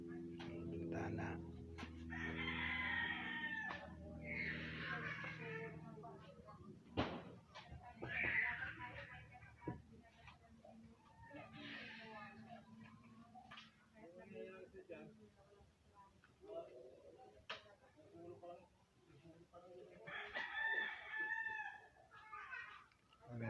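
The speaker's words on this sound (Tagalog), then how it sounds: "Ang mga manok." Chickens in a provincial backyard, a rooster crowing several times and hens clucking at moderate distance, intermittent over a quiet background with people talking now and then.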